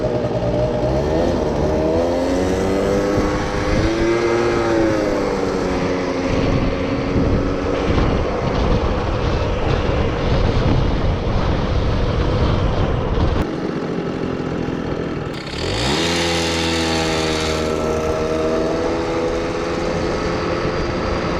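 A moped's small engine running on a test ride, buzzing loudly as its pitch rises and falls with the throttle, dropping off briefly near the end before revving back up.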